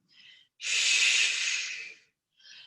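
Breathing during a Pilates workout: a short soft breath, then a long, loud, hissing exhale lasting well over a second, followed by another short breath, all close up.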